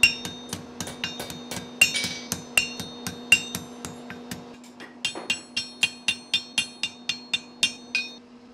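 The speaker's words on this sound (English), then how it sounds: "Mukuzuru is made by forging both ends of an iron rod to stretch them thin" A hammer strikes an iron rod in rapid, evenly spaced ringing blows while forging its ends thin for a cast-iron teapot handle, close and clear, with a brief pause before a second quicker series.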